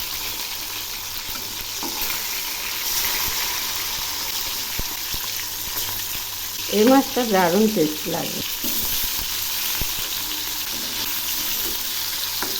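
Flipped aar fish keeps frying in mustard oil with a constant close sizzle and crackle, while someone speaks briefly partway through and a few light utensil taps sound.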